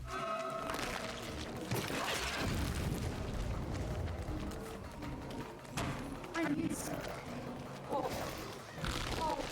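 An explosion in the video game Dead by Daylight, heavy booming and crashing bursts over continuous game noise, with people talking throughout.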